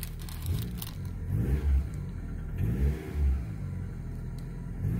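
A Toyota Camry engine runs just after startup, a low steady rumble with a few light revs rising and falling, close by and with no talking.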